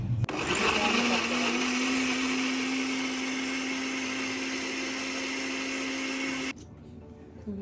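A mixer grinder blending chiku (sapodilla) juice with milk and brown sugar, a loud steady whirring motor hum running for about six seconds before cutting off, with faint talk around it.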